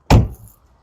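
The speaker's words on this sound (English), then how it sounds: "Door shut sounds. I'm going to give it a bit of a slam because it's so heavy." A heavy Ineos Grenadier door slammed shut once, giving a loud, close, solid thunk followed by a short fading rattle and then quiet.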